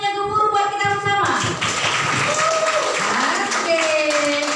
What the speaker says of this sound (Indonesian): Kita berikan tepuk yang gemuruh buat kita bersama.